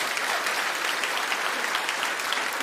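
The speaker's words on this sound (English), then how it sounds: "Are you applauding him?" Studio audience applause rolls on steadily, a dense, even burst of many hands clapping close and fairly loud for a few seconds with no voices on top.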